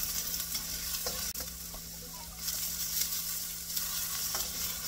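Onions fry in a hot pan with a steady, close sizzle and faint stirring scrapes, with no voices over it.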